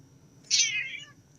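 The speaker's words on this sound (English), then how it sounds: "Gotta love my kitty." A pet cat gives a single clear meow, drawn out and falling slightly in pitch, close by in a quiet room.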